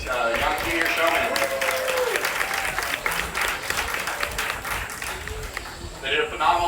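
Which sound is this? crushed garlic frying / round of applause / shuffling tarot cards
round of applause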